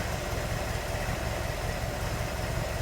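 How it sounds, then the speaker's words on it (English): A 1962 Chevrolet Corvette engine running steadily, a dense, even rumble heard close and continuous with no talk over it. "So you can just hear this thing running and driving nice."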